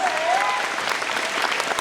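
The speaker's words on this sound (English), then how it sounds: "Let's give those purple belts a round of applause." Applause for purple belts at a karate belt test fills the room, a steady wash of clapping from a seated audience with a faint voice at the start.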